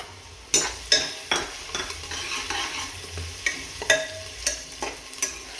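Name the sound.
chopped garlic frying and being stirred in a pan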